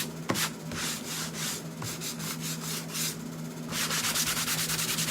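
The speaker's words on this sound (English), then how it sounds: "Let's get these edges sanded down." Painted wooden paint-stick edges being sanded by hand in repeated rhythmic rubbing strokes, close and steady, with a faint low hum underneath and no talking.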